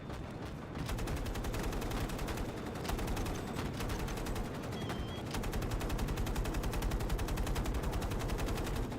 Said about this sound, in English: Why can't my heavy machine gun damage that?